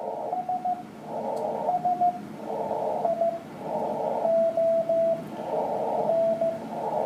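A shortwave radio signal picked up during a band watch repeats in bursts of roughly a second, with a few steady narrow tones sounding between them over a hiss of band noise. The signal stays moderately strong and steady the whole time.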